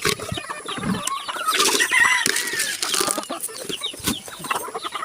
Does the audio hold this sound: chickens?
yes